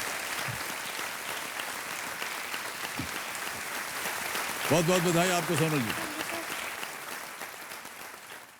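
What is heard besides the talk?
applause for the contestant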